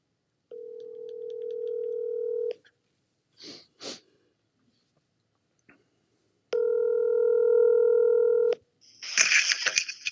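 A telephone call begins with two long, steady electronic ringing tones separated by a pause with soft sniffs and breaths, then a brief burst of rustling noise.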